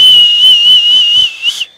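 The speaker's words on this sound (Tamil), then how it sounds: "சென்னை சூப்பர் கிங்ஸுக்கு பெரிய விசில் அடிங்க" A loud, shrill whistle cheers for Chennai Super Kings during an IPL 2019 fan gathering, held as one long piercing tone with slight wavers before it breaks off in a couple of short bursts at the end.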